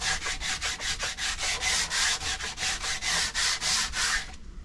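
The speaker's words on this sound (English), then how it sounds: "So we are sanding by hand." Wood is hand sanded with 80 and 120 grit sandpaper on the pieces of a fighting chair, a steady series of about twenty brisk back-and-forth rasping strokes, close and even, stopping abruptly near the end.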